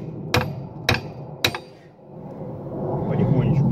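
Three sharp, loud hammer blows ring out at even intervals as a bent tow shackle is struck to straighten it outdoors, followed by ambient noise and faint voices.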